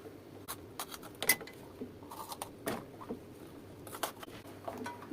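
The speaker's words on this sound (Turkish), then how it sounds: "Şimdi biberlerimin böyle bir çatal yardımıyla delik açıyorum." Fork tines poke holes into raw peppers being prepared for stuffed pepper dolma in a home kitchen, heard as a series of faint, scattered pokes and taps close by, with no talking.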